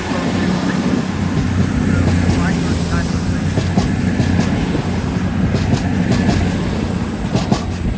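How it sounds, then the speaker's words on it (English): A Voyager diesel passenger train rumbles past close by, with a steady engine drone and rhythmic wheel clatter on the rails; a voice speaks faintly beneath. "there goes the Voyager. Great lovely diesel thing."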